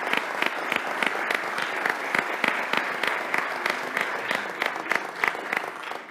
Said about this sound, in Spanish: Bueno, Gabriel, creo que merece un aplauso tu presentación.